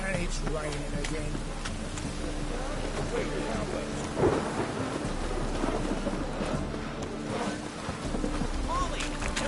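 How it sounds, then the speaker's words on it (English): Rain falls steadily with low rumbling thunder in The Witcher 3, a continuous wet hiss under a brief stronger roll, while voices talk over it. "And it's raining again."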